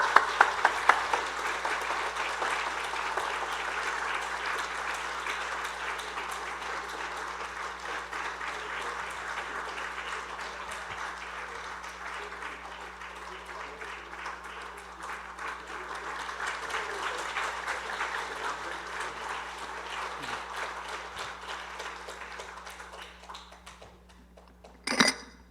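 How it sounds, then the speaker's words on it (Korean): A church congregation at an elders' training session applauds to welcome a speaker, with sustained warm clapping from a large crowd that swells and fades over about twenty-five seconds before a sharp knock at the end. "나오실 때 우리 뜨거운 박수로 환영하겠습니다"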